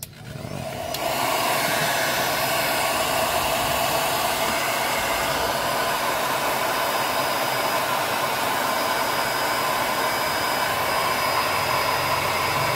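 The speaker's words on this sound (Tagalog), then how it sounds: "pero meron tayong hair blower" A hair dryer blowing hot air onto heat shrink tubing during alternator wiring work on a Toyota Corolla Big Body, a steady, loud, continuous whoosh that switches on and holds at full force without talk.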